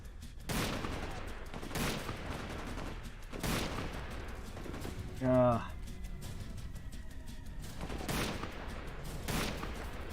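Rapid bursts of gunfire from the PC video game Tunnel Rats crack out in several spaced volleys over about ten seconds, with a voice talking over the game sound.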